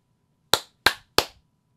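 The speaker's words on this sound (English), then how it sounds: "And I'm going to need you to do your clappy claps." Three sharp hand claps, evenly spaced about a third of a second apart, close and crisp in an otherwise quiet setting.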